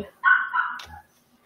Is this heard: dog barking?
yes